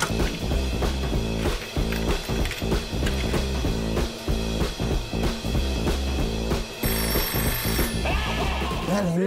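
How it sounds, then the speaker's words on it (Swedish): A telephone bell rings loudly and continuously with a rapid, rattling repeated strike for about nine seconds, with no talking over it. "telefon till dig"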